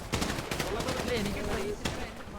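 Rapid gunfire in a video game battle rattles in quick bursts, moderately loud, mixed under a person talking throughout.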